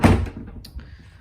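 A wooden Dutch door in a house bumps shut with one close, loud thud, followed by a short, fading rattle and a faint knock.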